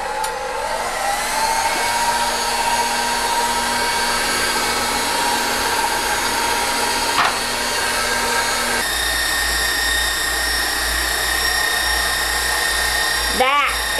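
An electric hand mixer whipping egg whites for homemade protein-sparing bread, running loud and steady as a continuous whir, shifting pitch partway through and ending in a brief scrape, with no voices.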